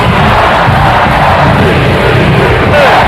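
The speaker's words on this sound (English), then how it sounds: "The roar of the crowd." A dense, steady roar fills a stadium crowd at an ECU Pirates football game, loud and continuous throughout with scattered shouts and whoops rising from the mass of voices.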